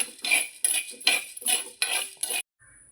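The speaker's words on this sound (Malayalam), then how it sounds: "അടുക്കി പിടിക്കാതെ ഇളക്കിക്കൊണ്ടേ ഇരിക്കണം" A spoon scrapes and clinks through roasting rice in a pan in about six rhythmic strokes, close and fairly loud, then stops.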